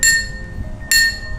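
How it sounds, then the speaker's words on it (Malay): A glass filled with water is tapped twice, each strike giving a clear, ringing tone with a lower pitch than an empty glass, close and distinct over faint room noise. "gelas yang berisi air tu pitch rendah"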